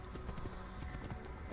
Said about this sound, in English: You also get to ride horses.